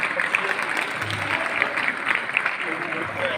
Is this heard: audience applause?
yes